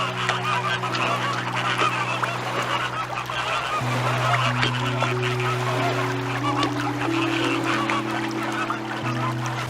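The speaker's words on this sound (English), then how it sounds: "Which in turn feed almost equally rosy flocks of hungry birds, flamingos." A large rosy flock of flamingos calls together, a dense continuous chorus of honking, goose-like cries layered over each other, loud and unbroken throughout.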